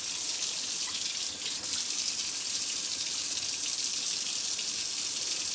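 A sink tap runs in a steady, close hissing stream while tie-dyed fabric is rinsed under it, with faint splashing and no talking.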